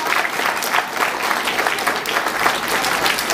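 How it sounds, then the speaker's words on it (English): A school assembly audience at the end of a third-grade year claps loudly and continuously, a full, dense round of applause from a crowd with no speech over it. "Let's give them both a big round of applause."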